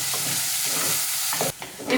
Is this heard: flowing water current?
no